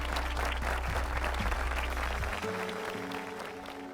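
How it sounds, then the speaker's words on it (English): A convocation audience in Sri Lanka applauding a guest of honour, a full, steady wash of crowd clapping with low music tones playing underneath. "Let's hear your applause for him, Mr. Sandun Hapugoda."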